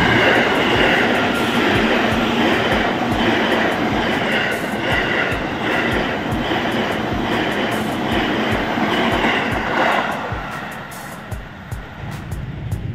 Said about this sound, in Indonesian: KRL Komuterland tujuan akhir stasiun Bekasi baru saja diberangkatkan dari stasiun Cakung.